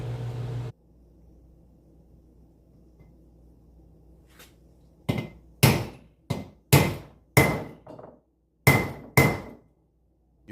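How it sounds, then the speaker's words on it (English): Sharp hammer taps on a seal driver, setting a seal into a brake rotor, ring out one after another, about eight blows at uneven intervals after a quiet pause, each striking metal with a short ringing decay. "You can start hammering it in. I usually give it a couple taps"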